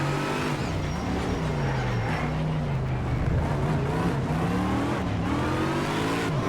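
Race car engine in the Need for Speed: SHIFT video game revs up and down through gear changes, a buzzy rising and falling whine that stays fairly quiet and continuous throughout.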